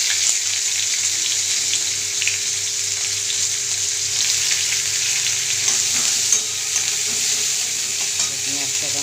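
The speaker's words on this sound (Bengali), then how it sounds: "তার মধ্যে দিয়ে দিচ্ছি পেঁয়াজ কুচি" Chopped onion fries in oil in a wok for a soybean curry, a continuous close sizzle with occasional stirring scrapes and a low background hum, no talking.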